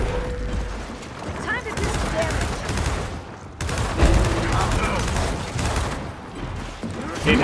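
Rapid bursts of Hammerburst rifle fire in a Gears of War online match ring out close and loud, joined by other gunfire and mechanical clanks, with a voice talking over parts of the action.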